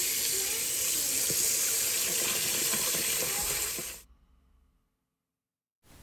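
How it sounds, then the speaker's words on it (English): Tap water runs steadily into a kitchen sink while peeled water chestnuts are rinsed, a loud, continuous gushing stream for about four seconds that cuts off abruptly, leaving near silence. "then give them a quick rinse."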